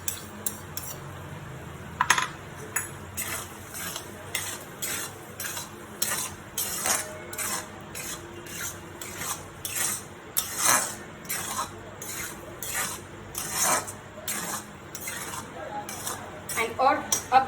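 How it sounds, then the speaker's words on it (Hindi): Coconut cream added to a pina colada risotto and stirred: repeated metallic spoon clinks and scraping against the pot come in an uneven rhythm, with a low sizzle and a voice talking over it. "एट दिस जंक्चर मैं अपना कोकोनट क्रीम डाल दूंगी"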